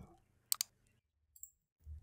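Computer mouse clicks sound close and crisp in a quiet room: a quick double click, then a lone click a moment later, with faint low rumble between them.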